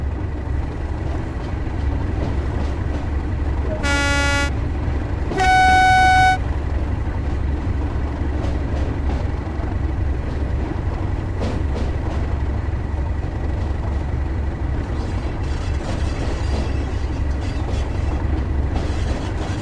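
A locomotive making a light engine move out of Penzance Station in West Cornwall in Train Sim World 2, with a steady low diesel rumble throughout, two loud horn blasts early on and faint clanks later.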